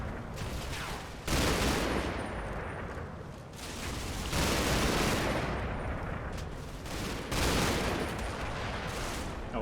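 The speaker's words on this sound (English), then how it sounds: "I will swap off some of the MG fire." Sustained bursts of heavy machine gun fire in a combat game, loud and continuous with booming pulses swelling every few seconds and no talk.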